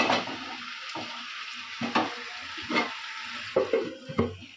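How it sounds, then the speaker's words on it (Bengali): Chicken with masala fries in a pan while being stirred for a Bengali home-cooked curry: a steady close sizzle broken by several scraping stir strokes at irregular intervals, with no talking. "চিকেন মশলাটা দিয়ে দিয়েছি, দিয়ে কষি, একটু কষাবো।"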